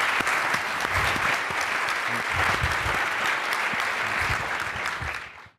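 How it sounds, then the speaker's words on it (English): Studio audience at a leadership interview event gives a sustained round of applause, dense clapping that stays loud and steady before fading out quickly at the end. "Could you please give him a big round of applause to start this thing?"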